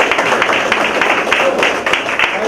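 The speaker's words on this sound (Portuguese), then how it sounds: "Muito aplauso" Audience applause at a church Bible-school gathering, a dense wash of many hands clapping steadily and loudly throughout, with no voices standing out.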